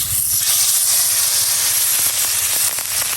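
Loud, constant hissing sizzle of a large boal catfish frying in hot oil in a kadai, close and unbroken, with faint crackles running through it.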